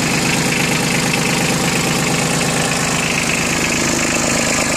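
A Yanmar F155D compact tractor diesel engine idling steadily close by, an even low rumbling chug with a constant rhythm throughout and no voices.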